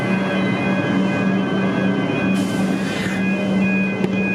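A train on the Frankston Line rumbles past with a steady droning hum and faint tonal whine, a brief hiss of air midway and a single sharp click near the end.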